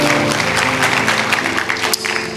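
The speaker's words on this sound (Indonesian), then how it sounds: "Beri tepuk tangan buat Allah kita." A church congregation claps together in a dense, loud burst of applause with crowd noise and music underneath, sustained across the whole moment.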